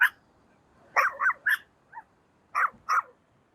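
Dogs bark on a beach path in Santa Teresa, Costa Rica: a few sharp, fairly close barks in short bursts of one to three, separated by quiet gaps.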